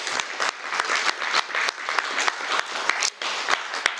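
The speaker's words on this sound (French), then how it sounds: "Je crois qu'on peut l'applaudir." An audience at a political talk in Lyon applauds the guest speaker, a brisk burst of clapping with distinct uneven claps standing out over roughly four seconds.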